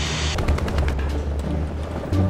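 Tank cannon fire in the War Thunder video game, a burst of sharp repeated shots and impacts over a constant low engine rumble, loud and close, with no voices.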